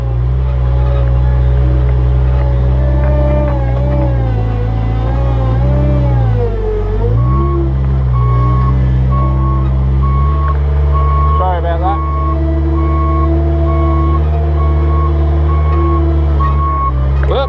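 A Cat 216B3 skid steer loader runs loudly with a deep, wavering engine drone that rises and falls, and a steady reversing beep sounds through the latter half.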